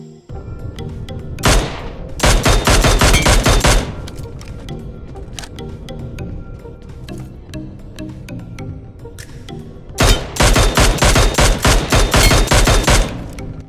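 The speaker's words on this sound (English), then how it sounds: "You will hear a specific sound when you hit a headshot." PUBG Mobile gameplay with headshot hit sound effects: two loud rapid bursts of automatic gunfire, separated by a quieter stretch of scattered shots and ambience.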